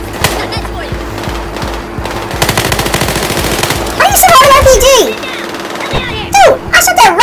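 Rapid automatic gunfire rattles in loud bursts in the Battlefield Hardline shooter game, with some single shots, while players shout and talk over the shooting.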